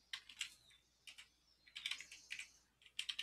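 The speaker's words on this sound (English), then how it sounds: "So we're gonna start typing" Quick clusters of computer keyboard typing while a web page is built with Bootstrap classes, close and clear, with irregular bursts of keystrokes separated by short pauses.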